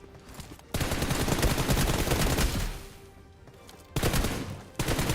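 Gunfire in the mobile battle royale game BGMI, loud bursts of rapid automatic shots with a brief lull and a second burst near the end, alone without talk.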